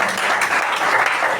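A church congregation at a seminar in Zou, Benin claps and cheers loudly in praise of Jesus, dense continuous applause filling the room with voices mixed in.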